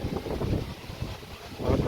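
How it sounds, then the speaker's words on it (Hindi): Strong wind gusts buffet the microphone at a riverside temple at Devprayag on the Ganges, a continuous low rumbling roar that swells and eases. "इतनी हवा चल रही है ना यहाँ पे"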